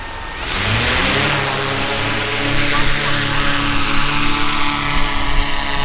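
A DJI Mavic 4 Pro drone spins up and lifts off on its first flight, its motors rising to a steady, loud whir with shifting pitch that holds close by throughout, a voice briefly audible near the start.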